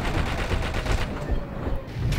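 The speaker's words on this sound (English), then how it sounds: "The most effective way to take out ground targets in a heli with the guns is to fly in circles." Rapid, continuous gunfire from helicopter guns strafing ground targets in GTA Online, a dense fusillade of shots with a slight dip midway.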